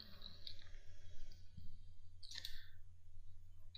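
A computer mouse clicks a delete button in data-analysis software, giving a few faint, sharp clicks over a low steady hum with no talking.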